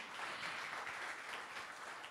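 A church congregation applauding, a steady wash of many hands clapping heard at a moderate distance, continuous and even throughout.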